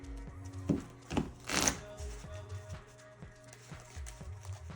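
A deck of Pokemon trading cards is shuffled at a tabletop game, giving soft, quiet, rhythmic riffling taps with a couple of louder flicks.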